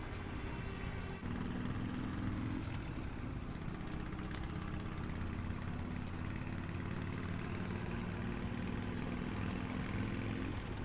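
Continuous low rumble of an idling car engine in the horror video game The Path, steady and unchanging throughout, with no voices.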